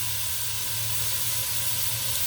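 A roast sears and caramelizes in a hot pan, giving a steady, close, loud hiss and sizzle that runs without a break and has no talk over it.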